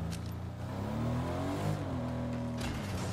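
A car engine drives and revs in the video game Fortnite, a steady whirring motor that swells and shifts in pitch, fairly loud and continuous throughout.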